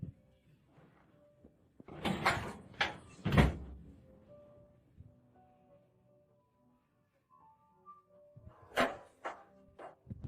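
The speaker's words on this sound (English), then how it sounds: "The door closes by itself." A door in a horror scene closes on its own with a few heavy thuds and knocks, loud bursts separated by quiet stretches, with faint tones in between.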